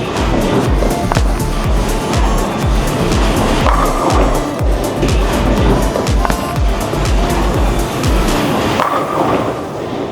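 A bowling ball rolls down a lane with heavy dips, making a loud, continuous rumbling roll with dense low thuds and rattles throughout, no voices over it.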